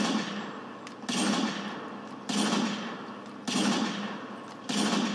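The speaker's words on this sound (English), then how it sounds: "I can fire a couple shots with this Barrett without the anti-recoil" Barrett sniper rifle fired in Call of Duty Modern Warfare 2, four loud booming shots spaced about a second apart, each with a sharp crack and a decaying rumbling tail.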